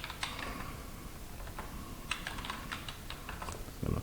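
Steady typing on a computer keyboard, a continuous run of close key clicks with a few sharper taps, heard alone with no talking.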